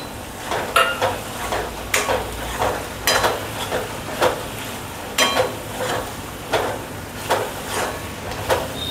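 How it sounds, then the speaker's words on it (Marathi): A spoon stirs and mixes ridge gourd thecha with coriander and crushed peanuts in a pan, giving repeated scraping, clacking strokes at an uneven rhythm, close and fairly loud over a low background hum. "परत चांगलं मिक्स करून घ्यायचं"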